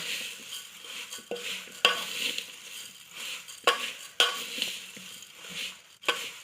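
Puffed rice bhel with coriander being tossed and stirred in a bowl in a home kitchen, soft rustling crunches with sharp clinks of a spoon against the bowl at irregular intervals, close and fairly quiet.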